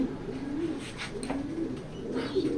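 Racing pigeons in a loft give a soft, continuous cooing murmur, close and fairly steady, with light background rustle and no speech.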